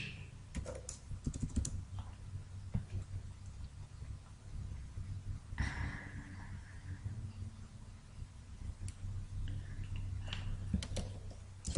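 Rapid clattering keystrokes on a computer keyboard as C# code is typed, steady irregular tapping through the whole stretch with no talk over it.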